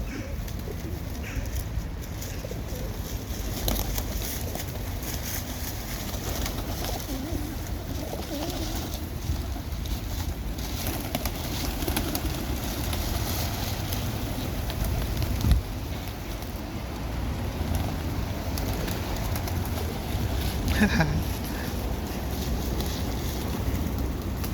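Doves cooing outdoors in Pisa, Italy, soft low coos repeating now and then over steady wind rumble and distant background noise, with no talk.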